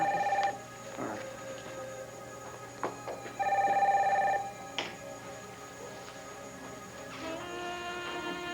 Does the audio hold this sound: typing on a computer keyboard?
no